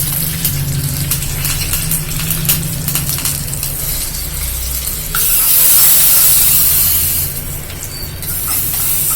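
Loud, steady sizzling and crackling fills the clip as spices and curry leaves hit hot oil for tempering a white pumpkin chutney, with a brief sharper hissing burst midway.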